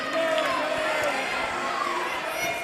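Capacity crowd at a pro wrestling tag team championship event, a dense, steady roar of chatter and cheering filling the arena throughout, with no single voice standing out.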